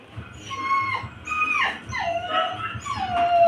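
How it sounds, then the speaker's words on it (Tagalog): A dog whines in drawn-out, wavering high whimpers, several rising and falling cries close by at moderate loudness, with no talk over them. "Ingin kasi ng aso mga lods."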